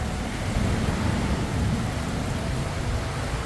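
Heavy rain pours outside during a hailstorm, producing a dense, steady roar with no distinct individual impacts and no voices.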